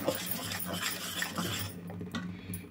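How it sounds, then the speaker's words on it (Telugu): A spoon scrapes and clinks softly inside a pot, mixing jaggery syrup for an urad dal porridge in a few quiet, close strokes. "మొత్తం ఒకసారి బాగా కలుపుకోవాలి"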